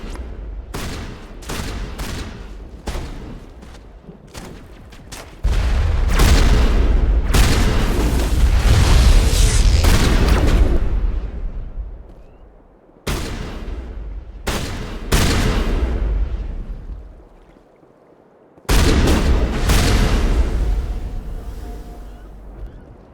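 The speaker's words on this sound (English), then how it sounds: "Check for long-range turrets helping the Geth target." Heavy video-game combat in Mass Effect 1: long-range Geth turret fire and explosions, with dense bursts of shots and booming blasts that sustain for several seconds, broken by brief pauses before the barrage resumes, loud and close.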